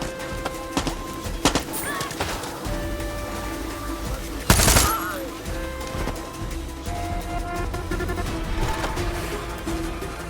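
Gunfire in the video game Far Cry 6: scattered shots and bursts over a busy game soundscape with music and effects, one loud blast near the middle, no voices.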